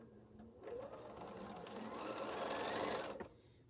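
A sewing machine stitches a short seam on a T-shirt quilt, its steady whirring motor running for about two and a half seconds before stopping, close and fairly quiet with no talk.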